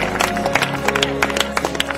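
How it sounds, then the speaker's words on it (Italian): A crowd claps for a runner finishing the Periplo di Oropa race, a dense, steady patter of applause close by, with an announcer talking over it. "Un grande applauso, visto il pubblico anche qui, un bel applauso."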